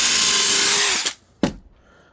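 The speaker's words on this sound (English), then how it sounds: "First step, pre-drill your hole." A power drill pre-drills a pilot hole for a Cortex hidden-fastener screw in Timbertech composite decking, a steady loud whine for about a second that cuts off, followed by a short sharp knock.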